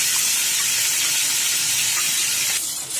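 Gravy poured into a hot pan for stuffed bhindi sets off a loud, continuous hissing sizzle that holds steady, then eases slightly near the end.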